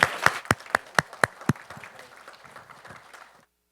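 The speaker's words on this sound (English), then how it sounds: "So a round of applause for Chris Taylor." Applause for Chris Taylor at a browser gaming conference session, opening with loud, evenly spaced claps close by that blend into a smaller scattered audience clapping before trailing off.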